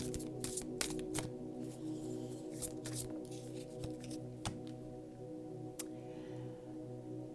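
Tarot cards are shuffled and drawn by hand in quiet surroundings, giving soft riffling and a series of crisp, intermittent flicks and snaps over a low steady hum.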